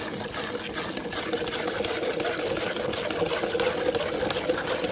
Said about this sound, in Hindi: ये देखिए धीरे धीरे पानी इसमें डालेंगे।